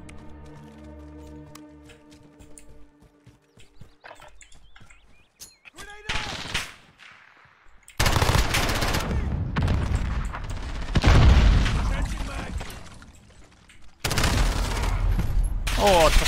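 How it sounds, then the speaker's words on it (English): Submachine gun fire in Call of Duty Modern Warfare (2019 beta): loud, dense bursts of rapid automatic shots in long sustained stretches, preceded by quieter game ambience and scattered clicks. "It's a submachine gun again."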